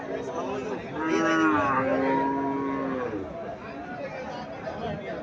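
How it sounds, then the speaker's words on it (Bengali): An Indian Haryana breed cow gives one long, loud, drawn-out moo close by, rising and then holding steady before fading, with a low murmur of people in the background. "এটা ইন্ডিয়ান হরিয়ানা জাতের গাভি।"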